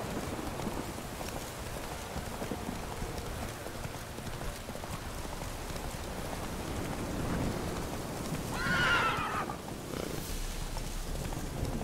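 Roach, Geralt's horse in The Witcher 3, gives a single short neigh late on over a continuous bed of rain and hoofbeats; the whinny stands out briefly above the steady wet background.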